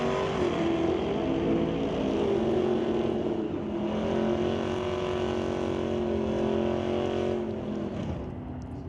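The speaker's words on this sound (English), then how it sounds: "Amber Rutherford, 66 wheel standing Mustang." A 1966 Mustang drag car launches hard into a wheelstand at an NHRA drag race, its loud, continuous engine roar sustained close by for several seconds, fading slightly at the end.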